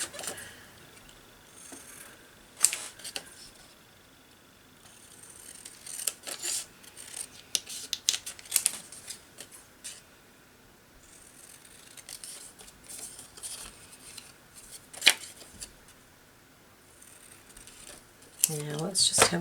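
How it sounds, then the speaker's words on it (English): Scissors snip out paper vintage-style tickets in a quiet room, with repeated close, crisp cuts and rustling paper coming in irregular bursts. "So just going to cut them out, or some of them out."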